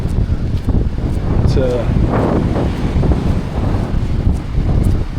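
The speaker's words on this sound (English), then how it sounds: "certainly blowy at the moment." Strong wind on a coastal walk near a lighthouse roars steadily into the microphone as buffeting rumble throughout, with a person speaking briefly over it.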